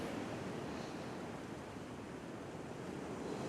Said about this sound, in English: of the ocean washing through the ears, just washing the stress away.